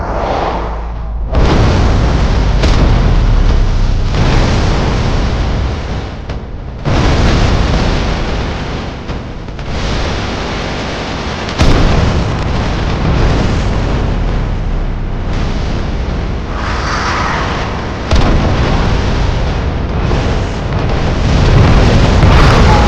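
Missile strikes explode in a sustained series of loud, heavy booms that roll into one another, with several sharper blasts standing out over about twenty seconds of dense rumbling and no voices.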